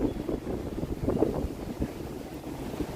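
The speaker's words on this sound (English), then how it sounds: "It's very windy today." Strong wind buffets the microphone on the bank of the Chicago River near a sailboat bridge lift, a steady loud rumbling roar with gusty swells throughout.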